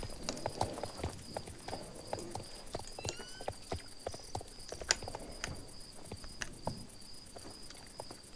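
Horse hooves walk in the video game Star Stable Online with a steady clip-clop rhythm over a thin high whine and faint insect-like chirping, with a few sharper taps along the way.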